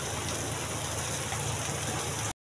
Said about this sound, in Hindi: यहाँ पे बहुत तेज़ बारिश हो रही है अभी